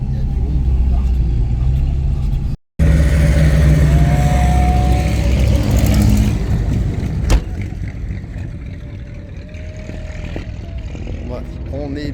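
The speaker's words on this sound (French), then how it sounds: "il y a des voitures qui reviennent des essais" Classic racing cars returning from practice runs at the Le Mans Classic, heard amid a busy crowd. Engines drone and pass at varying distances, with a brief dropout and a sharp knock midway, while people talk nearby.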